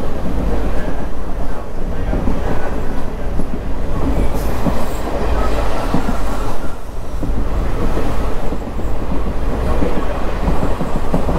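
A passenger train running near Tirunelveli Town railway station, heard from on board as a loud continuous rumble with rhythmic wheel clatter and rattling carriages throughout.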